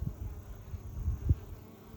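A low, steady buzz of honeybees fills the hive entrance, where guard bees confront intruding bees on the landing board, the droning swelling slightly in places without any speech.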